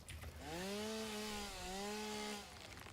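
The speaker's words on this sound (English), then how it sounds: "I am using the chainsaw mode of area" A chainsaw in the Satisfactory video game revs up and holds a buzzing, harmonic whine for about two seconds, dipping briefly midway before winding down, moderately loud with no talk.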